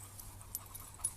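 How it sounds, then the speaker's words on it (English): Dogs on the lead during a coastal walk near Mawnan Church in Cornwall pant softly in short, faint breaths against a low background rumble. "We're going to put the dogs on the lead and take our time."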